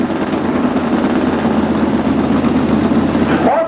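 A dragster engine rumbles loud and steady at the Bonneville Raceway drag strip during a nostalgia drag racing event, a continuous heavy low drone with no break.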